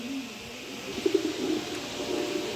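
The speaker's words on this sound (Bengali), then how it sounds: "এখানে আরও এক পেয়ার কবুতর দিলাম, মাক্সি কবুতর" Pigeons at a pigeon club, including a pair of Maxi pigeons, give soft low cooing calls in a short burst near the middle, over a steady background hum with no talking.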